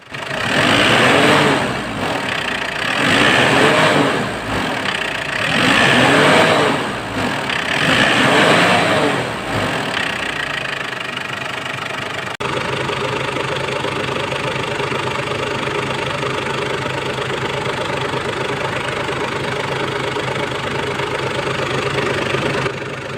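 A 2014 Ford Everest engine with an overheating problem runs close up, revving in three strong surges before settling into a steady, even idle for the second half.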